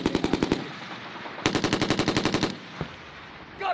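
Machine gun fire on a Marine Corps live-fire training range: two loud, close bursts of rapid rhythmic shots, the first about half a second long and the second about a second long, separated by a pause with a lone faint shot afterward.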